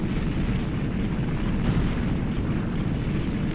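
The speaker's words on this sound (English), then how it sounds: "Explosions! The whole place is crumbling from the inside out." Explosions rumble through the crumbling castle in the finale of the Nintendo 64 game Zelda: Ocarina of Time, a continuous deep roaring rumble that stays loud and steady throughout.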